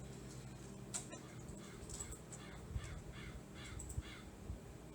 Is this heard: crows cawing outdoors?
yes